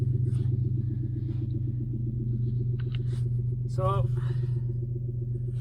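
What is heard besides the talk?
Lexus LS400 1994 4.0 V8 being started up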